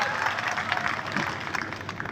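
Applause from the gathered staff during an Independence Day flag-hoisting ceremony at a Ramkrishna Forgings plant in Kolabira, offered in thanks to contract labour and management; steady, dense clapping continues throughout at moderate level.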